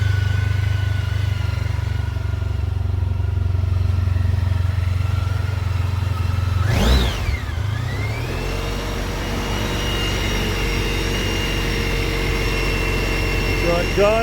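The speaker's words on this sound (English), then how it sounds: "Bike's fired up nicely." A Honda ST1300 motorcycle engine idles with a steady low rumble close by, then revs briefly with a rising and falling whine before settling back to a smooth, continuous idle.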